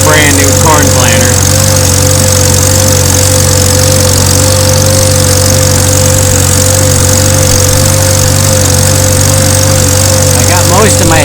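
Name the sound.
Farmall Super C tractor engine running while planting corn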